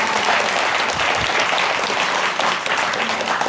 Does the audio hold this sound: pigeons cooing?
no